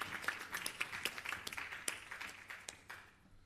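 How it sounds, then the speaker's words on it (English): An audience applauds during an official address, a steady patter of many hands clapping at moderate distance, fading out toward the end without voices over it. "So I want us to applaud the Norwegian government for having the foresight"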